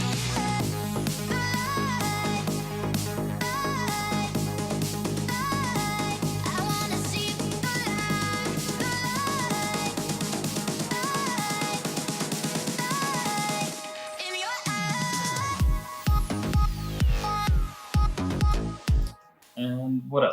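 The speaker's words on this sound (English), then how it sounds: "using another part of the sample to create the build-up," Electronic music build-up made from a reworked section of a sample, a dense sustained synth and drum texture that runs steadily for about fourteen seconds, then breaks into sparse, stuttering chopped hits with deep falling bass sweeps.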